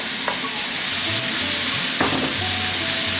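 White cabbage stirred into a pot of sizzling vegan turmeric vegetable curry, a loud steady frying hiss with occasional scraping strokes and clinks of the spoon against the pot.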